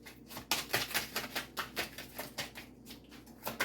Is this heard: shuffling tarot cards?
yes